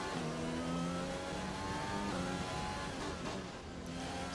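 Simulated Formula 1 race car engine on the Zandvoort circuit at the Dutch Grand Prix, a steady high-revving whine with shifting pitch as the car accelerates and changes gear, loud and continuous with no talk.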